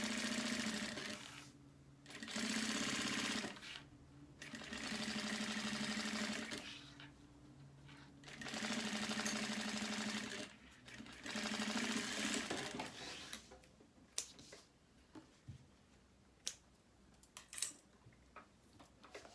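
Sewing machine stitching nylon fabric with a size 16 needle and matching thread, running in several steady bursts of a few seconds each, with short pauses between them, then quieter handling clicks near the end.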